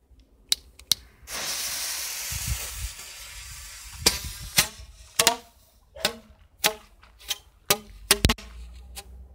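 A Keller Frosch B jumping-frog firecracker set inside a tube fizzes with a sustained hiss for about three seconds, then gives off a string of sharp, irregular cracks and pops at close range.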